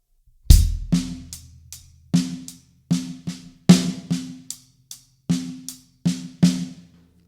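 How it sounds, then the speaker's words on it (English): A drum kit plays a paradiddle groove with the kick drum landing on the one, a steady pattern of sharp snare and hi-hat strokes over punchy low kicks, close and alone with no talking. "So that's a paradiddle in a beat."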